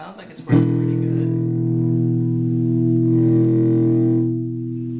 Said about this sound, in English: That was the sustain or the distortion setting.